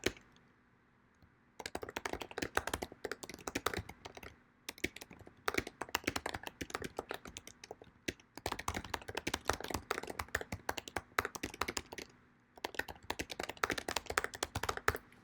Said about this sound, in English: So you type in your claim, you type in your impact